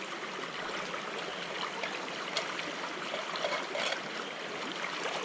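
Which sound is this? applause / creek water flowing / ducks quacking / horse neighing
creek water flowing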